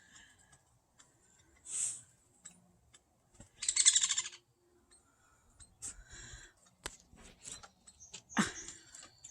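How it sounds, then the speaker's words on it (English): Baby woodpeckers at a backyard bird feeder give scattered bursts of high chattering calls, several short outbursts between near-quiet gaps. "Hear the baby chatter?"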